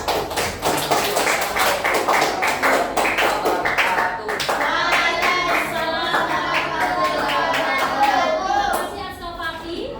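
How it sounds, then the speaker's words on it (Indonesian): Classroom applause for a pupils' group in a sixth-grade lesson: a burst of rhythmic hand clapping and tapping from many children, close and lively, with a few children's voices chattering over it. "Tepuk tangan buat kelompok visual."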